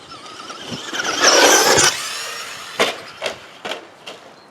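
A Traxxas Rustler 2wd RC car in a backyard jumping competition, its motor whining loudly as it launches, followed by several sharp clattering impacts as it lands and bounces.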